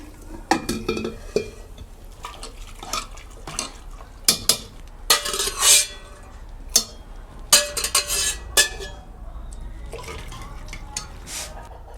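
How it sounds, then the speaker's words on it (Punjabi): Boiled black chickpeas tipped into a pan of fried masala for a dhaba-style kala chana curry, with repeated clatters of a spoon on the pan, wet splashes and scraping stirs, close and uneven, no talk. "ਹੁਣ ਆਪਾਂ ਇਹ ਚ ਚਣੇ ਪਾ ਦਾਂਗੇ ਉਬਲੇ ਹੋਏ"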